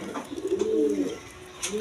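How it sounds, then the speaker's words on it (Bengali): High-flying Giribaz pigeons coo in a soft, drawn-out throaty call near at hand, one clear rolling coo in the middle and a fainter one closing. "এগুলো হাই ফ্লাইং গিরিবাস কবুতর"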